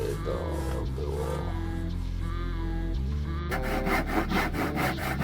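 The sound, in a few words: sawing wood pieces for a boat stringer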